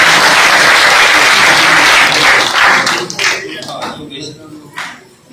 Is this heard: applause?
yes